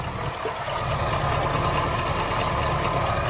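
A 1969 Buick Skylark engine running warm with a little smoke and possible blow-by, its steady idle rumble close and continuous with a faint knocking pulse underneath.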